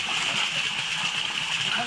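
Water splashing from an improvised mountain shower, a continuous bright spray and splatter with people talking over it.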